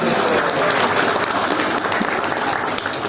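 Audience at a fast-breaking gathering clapping together, a dense, steady burst of applause lasting a few seconds with no talk over it.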